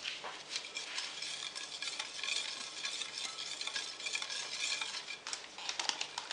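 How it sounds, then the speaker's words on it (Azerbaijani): A spoon or whisk stirring cold milk into cocoa cake batter in a bowl, producing a continuous soft swishing with light clinks against the side. "Qarışdırıram."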